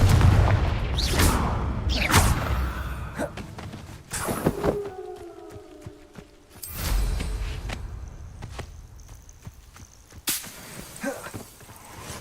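Spell effects from the Hogwarts Legacy video game, including a Confringo blast, arrive as a series of sharp bursts, whooshes and booming impacts spread across the stretch, with a brief tonal shimmer partway through.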